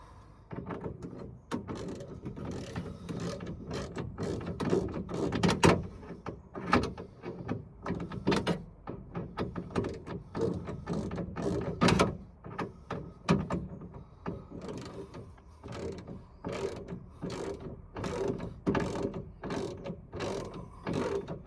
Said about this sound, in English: Just going to put this grub screw in, which should help secure the window.